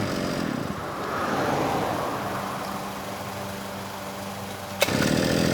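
A genuine Mitsubishi TL43 grass trimmer engine runs with a steady, loud, buzzing drone, then a sharp knock as it is restarted, and the engine carries on running close to the microphone.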